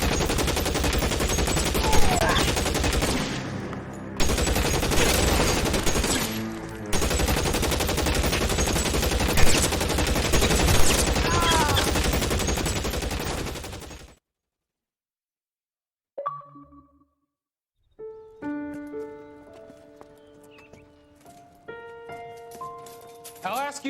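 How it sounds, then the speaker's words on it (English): Sustained gunfire rattles in the police crime game LA Noire during a shootout. Dense, loud volleys run for about fourteen seconds with brief breaks, then give way to quiet and tonal game sounds. "Shots fired."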